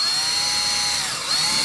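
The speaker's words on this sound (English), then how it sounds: "So just start, line it up, start drilling." Power drill boring through the thin metal of a Camco RV screen door during cross bar installation, a steady high whine with a brief dip near the end, close and continuous with no talk.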